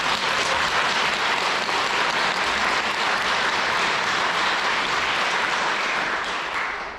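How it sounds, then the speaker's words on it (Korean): A seated audience at a Buddhist dharma talk gives a big round of applause for the monk who organized the event, steady dense clapping from a large crowd that holds loud for seven seconds and begins fading at the end. "우리 금우스님 수고하신 거에 대해서 큰 박수를 먼저."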